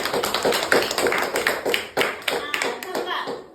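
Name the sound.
classroom applause, clapping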